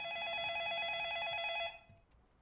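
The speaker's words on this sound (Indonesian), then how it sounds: "tiba-tiba telepon berdering" A telephone rings in The Ring horror film, a steady electronic bell trill that holds clearly for about a second and a half, then cuts off abruptly, leaving a faint room hush.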